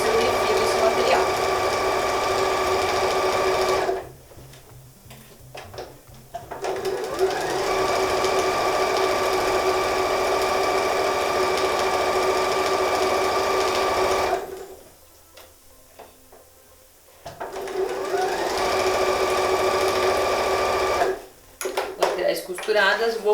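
Close, loud sewing machine stitching fabric for a bath mat kit, running steadily in long stretches broken by two short pauses, with a voice speaking faintly at times.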